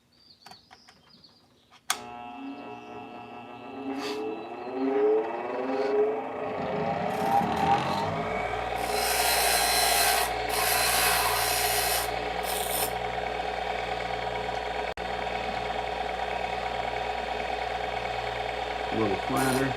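After a sharp click, an angle grinder whines up and grinds metal to fit a car roll cage in a continuous harsh rasp, steady and close, with no voices.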